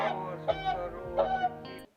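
A swan, a bird rescued from poachers, gives a few short nasal honking calls close by, in quick succession over a low steady background hum.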